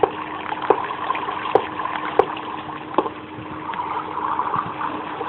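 Game water rushes and splashes steadily, broken by a few sharp, evenly spaced clicks.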